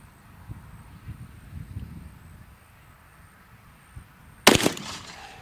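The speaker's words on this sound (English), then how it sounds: "So we're going to take a couple shots here and see what happens, and see what it does at 25." A single loud gunshot fired at a target at 25 yards, a sharp close crack with a brief decay, following quiet outdoor rustling and wind.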